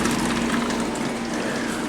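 Water runs steadily into a coffee machine during a refill, a close continuous gushing pour with a faint pump-like hum beneath it, no voices.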